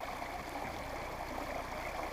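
Creek water flowing and gurgling over rocks on a hike upstream while gold prospecting, a steady close burble with no voices.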